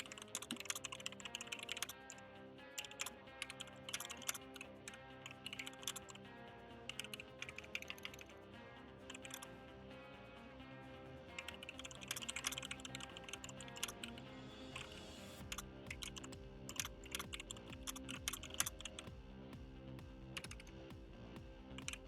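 Rapid clicking of a computer keyboard being typed on, quiet and continuous with irregular bursts of keystrokes over faint background music.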